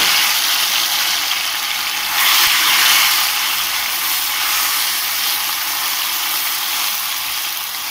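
Crushed elephant apple dropped into a pan of hot oil with mustard seeds, giving a steady, close broadband sizzle that swells briefly early on and then holds evenly throughout, with no talking.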